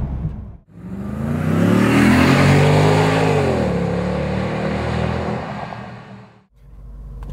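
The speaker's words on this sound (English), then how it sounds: "What an awesome sounding V8." A BMW X5 4.8is with a V8 engine and about 55,000 miles revs hard during a test drive, a loud, continuous roar climbing and falling in pitch under acceleration before cutting off briefly near the end.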